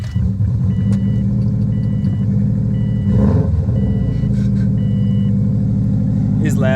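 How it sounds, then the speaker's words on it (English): A Subaru WRX engine idles and hums steadily with turbo noise, a constant low drone overlaid by faint periodic tonal beeps and brief rises, close and loud throughout. "That turbo noise is loud too."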